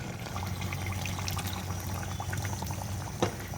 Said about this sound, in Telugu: ఇప్పుడు మనం చింతపండు గుజ్జు పులుసుకున్నాం కదా, ఈ వాటర్ని దీంట్లో పోయాలి